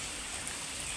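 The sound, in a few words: heavy rain falling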